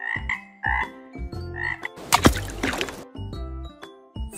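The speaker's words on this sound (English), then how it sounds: "Frog." Animal toy sounding a recorded frog croak: repeated short, deep, bubbly croaks in a quick series, loud and close, with a brief watery splash-like burst in the middle.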